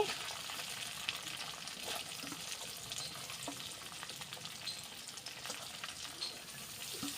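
Chopped onion frying in oil with bay leaf, cinnamon and cardamom, a steady busy sizzle with occasional stirring scrapes, moderately close and continuous throughout.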